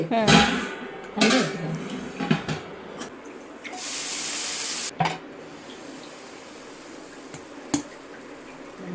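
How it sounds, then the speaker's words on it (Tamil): Water is sprinkled onto a hot dosa pan and wiped with a cloth. A loud hiss lasts about a second among clinks and scraping on the pan, while a voice talks. "தண்ணி தெளித்து துணி வச்சு தொடச்சி"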